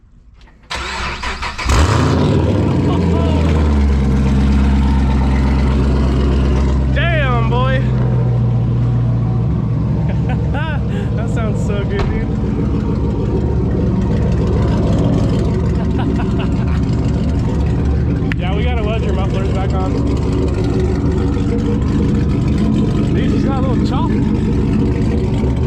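A Chevrolet Camaro SS V8 with aftermarket downpipes cold-starts, cranking and firing, settling into a loud, lumpy idle with a few sharp revs; people talk faintly beneath it.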